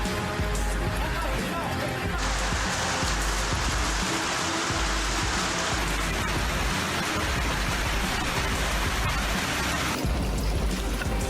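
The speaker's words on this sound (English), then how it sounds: "this sudden hailstorm lasted about 10 to 15 minutes and fell alongside heavy showers" A sudden hailstorm with heavy rain showers in Novosibirsk makes a dense, steady hiss of pelting rain and hail that swells and shifts in intensity throughout, with no voices.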